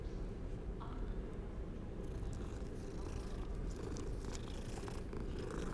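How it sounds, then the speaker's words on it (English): A cat purrs steadily and continuously while being petted in the Hogwarts Legacy video game, a soft rumbling loop with faint incidental sounds over it and no talking. "Yeah, I'll give you a pet, pretty kitty."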